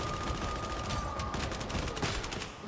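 Enemy shooters fire in Warhammer 40k: Darktide, producing a steady rattle of rapid gunfire with mechanical clatter, moderately loud and continuous for a couple of seconds.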